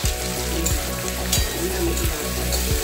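Chili chicken paste fries in a pan with a loud, steady sizzle, broken by regular scraping strokes as it is stirred, close and alone without talk.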